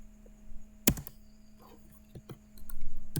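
Keys being typed on a computer keyboard while a database query is entered, with one sharp loud click followed by a scatter of softer, irregular key taps close by.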